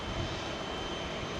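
An Airbus A350-1000 at London Heathrow on runway 27L produces a constant, moderately distant jet roar, a brief even broadband rush with no voices.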